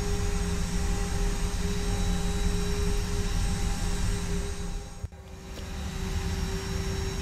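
Airliner taxiing out to the runway at Pittsburgh, a steady, loud jet engine drone with a constant whining tone throughout, briefly interrupted by a soft click near the end.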